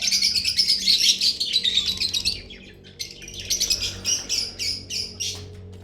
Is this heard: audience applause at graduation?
no